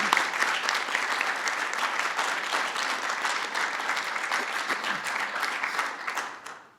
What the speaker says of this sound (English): So let's give everyone a round of applause.